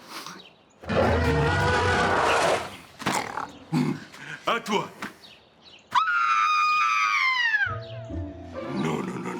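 A voice imitates a monster roar in a children's show: a strained, throaty vocal roar sustained for a couple of seconds, followed by other voices talking and a rising electronic whistle-like tone.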